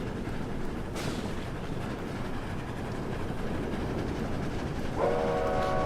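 A train horn in the Roblox video game sounds a sustained multi-tone blast near the end, preceded by a constant rumbling rail-travel noise and a brief whistle-like burst early on.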